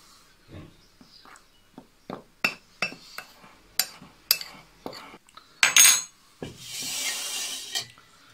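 Salt is mixed into flour in a bowl with a utensil, producing a series of sharp clinks and knocks against the bowl at an uneven pace, followed by a longer scraping rub, close and fairly loud.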